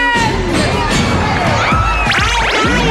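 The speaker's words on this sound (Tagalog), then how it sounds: "Gusto ko yung mga tili ngayon." A studio audience at a live Filipino noontime variety show cheers and screams continuously, with loud high-pitched shrieks and whoops blending into a dense, roaring crowd noise.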